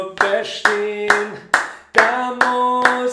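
Hand claps keep time in a children's song, sharp regular claps over sustained sung or instrumental tones, close and fairly loud.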